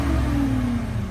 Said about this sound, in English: We're gonna give y'all a few revs.